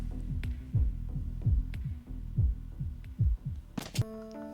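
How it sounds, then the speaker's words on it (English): A heartbeat sound effect from the Fate/Stay Night visual novel, deep low thumps in regular double-beat pairs repeating steadily over a humming background, with a brief bright chime near the end. "I don't love hearing a heartbeat constantly."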